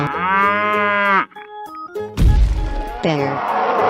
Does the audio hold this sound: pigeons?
no